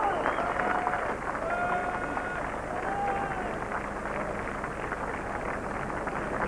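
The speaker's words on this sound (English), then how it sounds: "the applause, the warm applause for a great winner of the Oaks" Warm applause from the racecourse crowd at Epsom after the Oaks, won by Imagine, forms a dense, continuous clapping roar that holds steady throughout, with voices mixed in.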